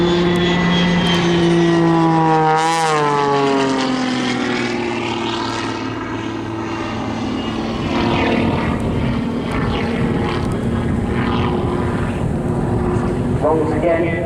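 A jet-powered Pitts aerobatic biplane roars at full thrust during an airshow, its loud engine tone sweeping downward in pitch as it passes, with a commentator talking over the continuous noise.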